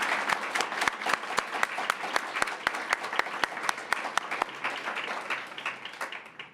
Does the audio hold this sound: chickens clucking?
no